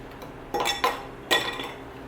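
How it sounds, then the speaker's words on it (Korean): Ice cubes dropped into a glass over mandarin syrup for a coffee drink, giving three bright close clinks and rattles spaced about a second apart, then a fading ring. "다음은 얼음을 넣어줍니다."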